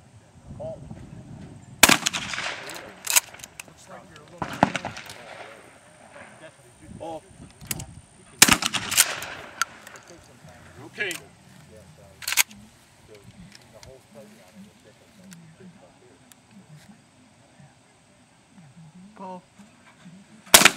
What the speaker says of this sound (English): Effortlessly shooting.